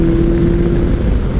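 A 2003 Kawasaki ZR7S motorcycle fitted with pod filters idles steadily, a loud, close, even engine drone with no other sounds.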